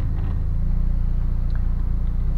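A Mercedes-Benz CLA45 AMG heard from inside as it sets off, a steady low engine rumble and droning hum throughout a short stretch, with no speech.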